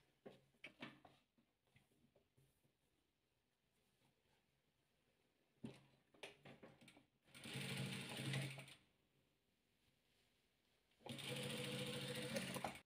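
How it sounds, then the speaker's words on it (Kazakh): A sewing machine stitches blue and yellow fabric patches for a quilt in two loud, steady bursts of whirring, with clicks and fabric handling in the quieter stretches between them. "Көк пен сарымызды тігеміз."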